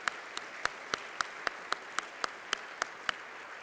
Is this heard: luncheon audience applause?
yes